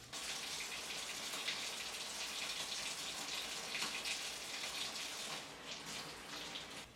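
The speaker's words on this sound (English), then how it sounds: "Then it's another really thorough hot water wash and rinse" Hot water pours steadily from a tap while a steel tamahagane tanto blade is washed and rinsed, a continuous close splashing hiss that swells slightly in the middle.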